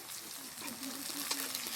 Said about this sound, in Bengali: এখন এর মধ্যে দিয়ে দেব টমেটো কুচি